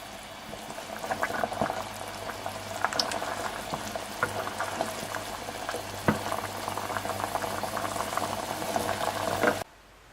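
Sugar syrup boils and reduces in a pot on a medium-heat stove, a continuous close bubbling with scattered pops and crackles for about nine seconds before it cuts off.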